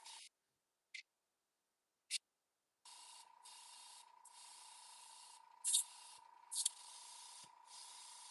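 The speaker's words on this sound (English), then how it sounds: "See if we're getting good spray." An airbrush sprays paint onto fishing lures in short bursts, each a soft close hiss, followed by longer spraying with a steady faint tone beneath and a couple of louder spurts.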